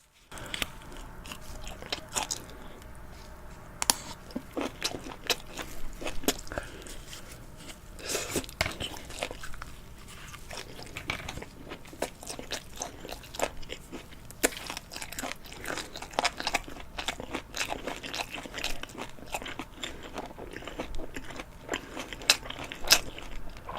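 Grilled chicken heart skewers are chewed and bitten in close-up over nearly 24 seconds, with steady crunchy, crackly bites and mouth sounds throughout and no speech.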